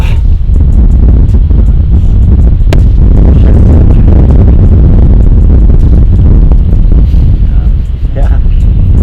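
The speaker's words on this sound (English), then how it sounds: "See, now it's windy, great." Loud, continuous wind buffeting the microphone, a heavy roaring rumble that barely lets up for the whole stretch.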